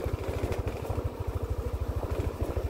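Yamaha Aerox automatic scooter engine under way on a hilly road, a close, steady, fast-pulsing mid-pitched putter with an even rhythm throughout.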